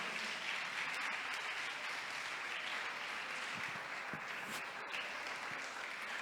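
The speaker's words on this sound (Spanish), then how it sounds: "Démosle un aplauso al Señor en esta noche" Church congregation applauding during an evening service, a steady wash of clapping that holds at an even level throughout with no voices standing out.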